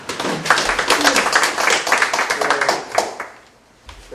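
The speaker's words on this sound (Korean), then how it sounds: "큰 박수로 모시겠습니다. 박수." Audience at an outdoor press conference by Honam April 19 Revolution groups claps steadily in a dense, close burst that fades out near the end, with a voice heard faintly under it.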